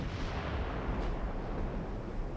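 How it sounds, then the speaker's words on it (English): Heavy booming naval gunfire from battleships in a 1903-era warship strategy game, a dense continuous rumble of overlapping blasts with one sharper report near the middle, loud and with no voices. "And my battleships have already opened up."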